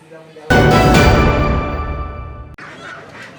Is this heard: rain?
no